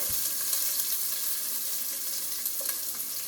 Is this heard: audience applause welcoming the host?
no